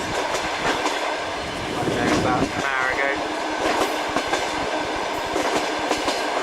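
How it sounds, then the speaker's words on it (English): A passenger train travels south on rails, steady rumbling and clickety-clack of wheels heard from inside the carriage, with a brief squeal and a voice speaking briefly over the continuous noise. "On the train south."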